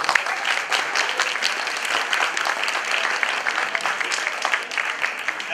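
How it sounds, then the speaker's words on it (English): An audience in a hall at a KAIST international community event gives dense, steady applause for the Costa Rican presenters. The clapping is loud and continuous for several seconds, with no break and no voices above it. "Please give them a round of applause."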